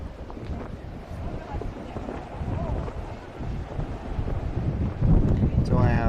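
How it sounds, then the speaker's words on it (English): A strong wind gust blows from behind at a baseball ballpark during a game, its low rumble buffeting the microphone and swelling louder toward the end. "a big old wind gust behind us"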